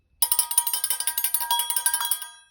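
A homemade bell-like instrument struck rapidly around its inside, a close, bright run of about two dozen ringing metallic tings that stops abruptly, with no talking.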